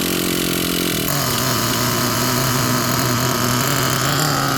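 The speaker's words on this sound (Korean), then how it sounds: "그다음 엔진 길들이 하겠습니다." A nitro-fuelled RC car engine, T-Maxx 3.3 class, runs loud and steady during break-in, its buzzing drone holding constant after a brief shift in pitch near the start, with no talking over it.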